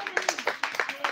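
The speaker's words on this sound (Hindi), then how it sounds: "ताली बजा दो, जो ताली बजा।" An audience at a magician's street show claps in a quick run of sharp, uneven hand claps, close and moderately loud, with no talk over it.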